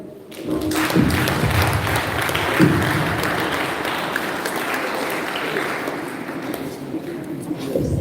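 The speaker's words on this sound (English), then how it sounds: "A round of applause for him again." Audience at a senior high school's 65th anniversary celebration breaking into applause, a loud, sustained round of clapping that swells after a brief start and carries on steadily, with a couple of dull thumps early on.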